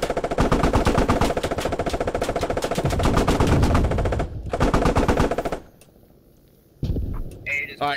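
Gunfire in the military shooter game Squad during a squad shootout: sustained loud automatic machine-gun bursts, a brief gap, another long burst that stops abruptly, then quieter scattered shots and a voice briefly talking.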